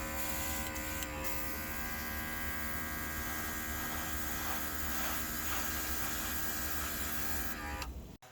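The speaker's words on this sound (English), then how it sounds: "we're going to be going back to the old portable air compressor here to do this job" An old portable air compressor runs steadily and loudly with a constant motor hum and whine, used for spray painting slot cars, then cuts off abruptly at the end.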